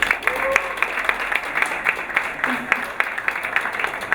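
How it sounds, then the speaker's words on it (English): Audience applause at an evening space-day event, a room of hands clapping steadily at moderate distance, individual claps distinct and fairly sparse, with a faint murmur underneath. "Please have an applause for the lady."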